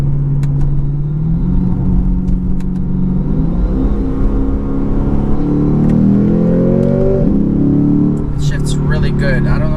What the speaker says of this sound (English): it seems to be doing pretty good as we're going to downshift here a few gears.